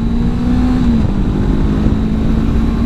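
Engine of a 2021 Honda CB500X adventure motorcycle accelerating hard out of a corner, a loud close continuous drone that climbs steadily in pitch through the first second, then settles into a steady roar.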